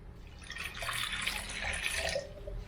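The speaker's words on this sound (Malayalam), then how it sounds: "ഇനി നമ്മൾ ഇതിലോട്ട് വെള്ളം ഒഴിക്കും." Water is poured into a bowl of flour mixed with a little yeast and salt, a close, trickling, splashy stream lasting a couple of seconds, fairly soft with no talk over it.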